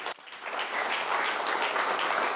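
Steady, dense audience applause fills a television studio as a young singer from a voice school is welcomed on stage during a sports programme, sustained and fairly even throughout without talk.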